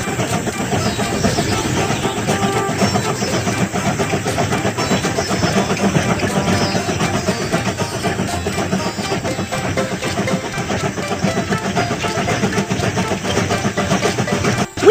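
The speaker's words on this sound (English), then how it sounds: "Pull the slide bar to start the engine." A cartoon train engine in a Babybus children's game starts and runs with a steady, busy mechanical rumble and chugging that continues throughout, loud and close.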